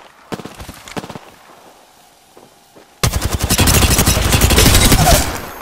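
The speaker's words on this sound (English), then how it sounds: "Firing." Rapid automatic gunfire in Apex Legends: a couple of short bursts, a lull, then a loud sustained volley of fast, evenly spaced shots.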